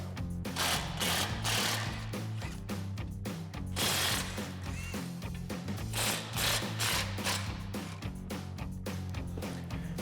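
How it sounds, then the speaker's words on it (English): A 15 mm socket spins bolts out of a 2021-2026 Ford Bronco front bumper, making a steady mechanical whirring and ratcheting with repeated louder bursts, close up and continuous throughout with no talk. "So I'll take my 15 millimeter socket and get these out."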